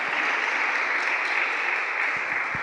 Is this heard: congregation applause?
yes